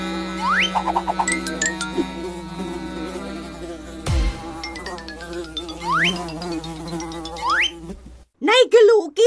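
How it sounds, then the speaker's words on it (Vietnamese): Swarm of cartoon flies buzzing around a house with rotting bananas in an animated folk tale, a thin whining drone over a busy music and effects bed, with rising chirpy cartoon tones. "Lũ ruồi đang kéo tới rồi đây."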